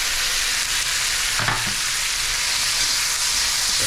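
Tomatoes sautéing in oil in a pan for salmon miso sinigang, a loud, continuous sizzle with a brief clatter of stirring partway through.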